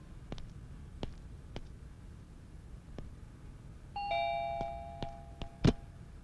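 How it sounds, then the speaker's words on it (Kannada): A doorbell gives a clear two-tone ding-dong chime in a quiet indoor space, followed by a sharp knock or thud, with scattered faint clicks before it. "ಬೆಲ್ಲೊಡ್ದಿದ್ ನಾನೇ."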